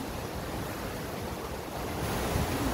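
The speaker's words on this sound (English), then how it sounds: "It's like some swift and cold water." Swift, cold river water rushes at Sandstone Falls, West Virginia, heard from a boardwalk bridge as a dense, continuous roar, loud and steady throughout with some wind noise.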